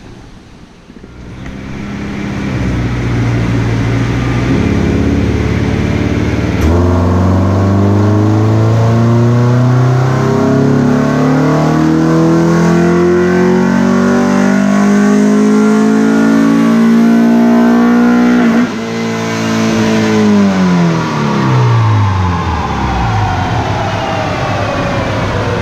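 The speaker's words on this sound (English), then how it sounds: "We're going to do a base pull. I want to see what the gains are." A turbocharged Honda S2000 with a single-cam Kraftwerks turbo kit makes a wide-open-throttle base pull on a dyno, loud and close, its engine note climbing steadily for about twelve seconds before dropping off as the pull ends.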